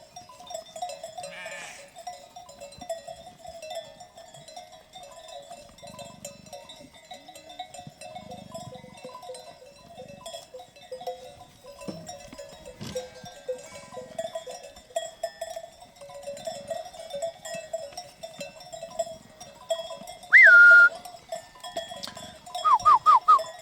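A sheep's bell clanks and jingles irregularly as a flock moves beside a cool water fountain, with quiet shuffling and a few faint bleats, plus short brighter ringing bursts near the end.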